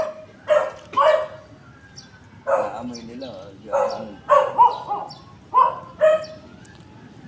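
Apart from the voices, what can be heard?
dog barking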